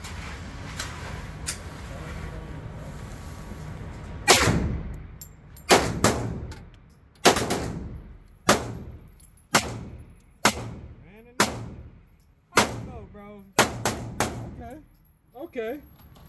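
A Hi-Point firearm fires test ammunition, with about a dozen sharp, loud shots at uneven intervals over several seconds, each ringing briefly, after a quieter stretch with faint talk.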